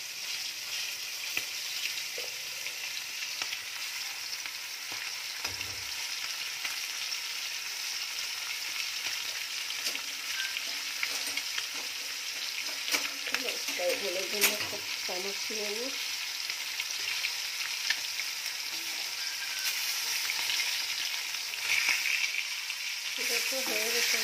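Fish frying in a pan gives a steady, even sizzle throughout, with occasional faint stirring clicks and a voice speaking briefly in the background.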